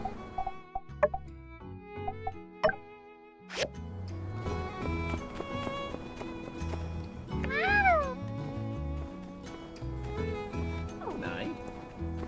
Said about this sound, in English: He says meow.